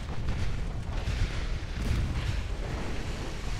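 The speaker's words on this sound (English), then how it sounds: "Even more torpedo hits." Torpedo hits exploding in a naval warfare video game, a continuous heavy low rumble of booming blasts that runs densely throughout without any talk.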